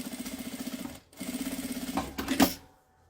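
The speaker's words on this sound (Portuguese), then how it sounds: "Passei a costura aqui." A sewing machine stitching a seam, running in a fast close rhythmic whir, pausing briefly and starting again before stopping with a small clatter.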